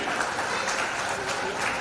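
A crowd at a community organisation's award gathering applauds volunteers, giving a dense, continuous wash of clapping with no pauses, with voices mixed in.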